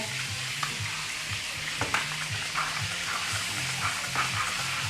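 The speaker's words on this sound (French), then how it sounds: "Les polpettes sont en train de cuire tranquillement." Polpette (Italian meatballs) frying gently in a pan, a steady soft sizzle with faint crackles and a few light clinks, no talking.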